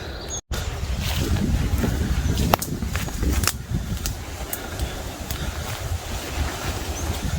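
Wind blows outdoors in the woods at a wild camp, a steady rushing gust with rumbling buffeting on the microphone and a few sharp knocks and clicks, fairly loud and close.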